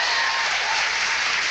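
Studio audience applause on a late-night talk show, a loud and even wash of clapping filling the whole moment with no talking over it.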